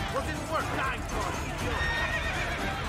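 Horse neighing in the Assassin's Creed Brotherhood video game, a clear whinny over clip-clopping hooves, with someone talking throughout.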